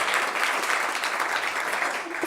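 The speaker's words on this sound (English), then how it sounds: "Let's have a big round of applause for tonight's crew here at the club tonight." An audience at a music club's listening room applauds the volunteer crew with dense, steady clapping throughout, fairly close and even in loudness.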